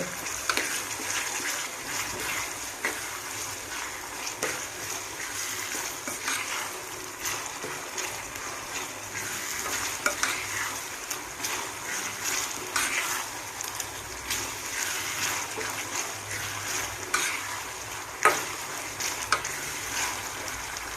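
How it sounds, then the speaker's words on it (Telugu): Ginger garlic paste sizzles in a pan with softened tomatoes for a meal maker masala curry, a soft steady fry with scraping stir strokes and occasional small clicks, fairly quiet throughout. "అల్లం వెల్లుల్లి పేస్ట్ బాగా వేగింది కదండి"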